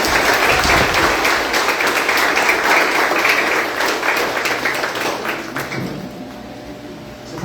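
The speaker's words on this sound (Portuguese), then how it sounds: "Você pode dar uma salva de palmas para essa oração?" A church congregation applauds after a prayer at a Mother's Day service, a dense wash of many hands clapping that stays loud, then thins and fades toward the end.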